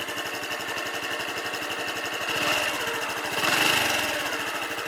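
A Honda Super Cub motorcycle engine, started with the electric starter, running steadily with a rapid, even rattling idle, swelling louder briefly a couple of times, close by with no talk.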